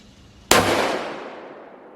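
A single very loud, close rifle shot from a Ruger American Predator bolt-action in Creedmoor, a sudden sharp crack with a long echoing decay outdoors, alone without talk.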